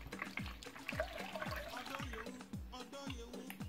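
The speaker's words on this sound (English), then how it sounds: "So we'll strain with this fine strainer." Cooled hibiscus sobolo drink is poured through a fine strainer, a steady trickle and splash of liquid with a regular series of low knocks, fairly quiet and close.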